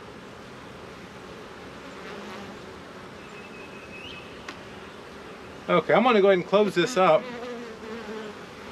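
Honeybees buzz steadily around an open hive on a cloudy day while a beekeeper feeds and waters the colony, a low continuous drone under the beekeeper's voice, which speaks briefly near the end.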